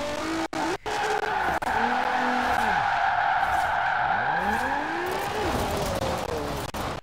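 Forza Horizon 4 car drifting through a continuous, loud tire squeal over a steady engine drone, with pitch sweeping up and down as the slide changes and a few brief drops as throttle lifts.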